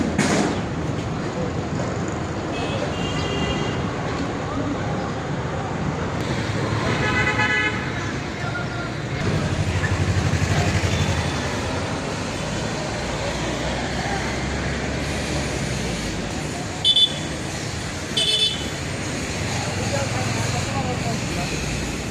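Steady roar of highway traffic with vehicles passing continuously and several short car horn toots cutting through, while a voice talks over the road noise.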